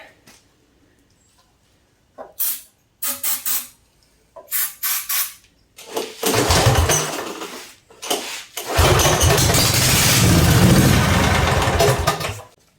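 A 16 HP V-twin engine on an off-road go-kart is cranked in several short sputtering bursts, then catches and roars loudly for a few seconds before cutting off.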